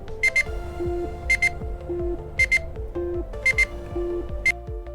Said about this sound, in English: So is that beeping coming from the actual controller?